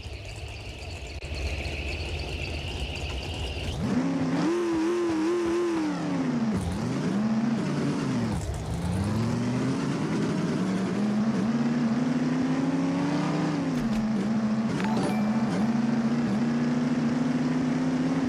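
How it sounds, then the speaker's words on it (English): A virtual car from the video game Half-Life drives alone, its engine rising from a low hum into a steady, loud drone that dips and swells as it revs and shifts, continuing throughout. "I'm gonna use the car from Half-Life."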